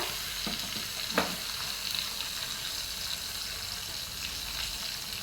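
Tempering spices with asafoetida sizzling in hot oil, a steady close hiss with a few sharp pops and spoon knocks early on, then an even sizzle with no talking.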